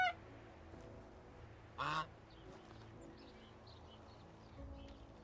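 Geese on a farm in the medieval village game Medieval Dynasty give a single short honk against quiet ambient background, with faint bird calls scattered around it.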